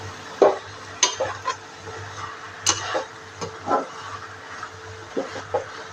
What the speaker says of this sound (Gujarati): આ રીતના હલાવતા રહેવાનું।